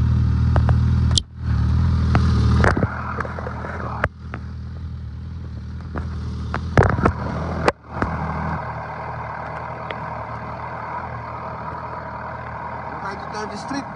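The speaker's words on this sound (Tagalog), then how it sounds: "maingay yung motor." A rough motorcycle engine running on a city street, its low rumble loud and close with clattering revs and a few sharp knocks, while traffic noise lingers in the background.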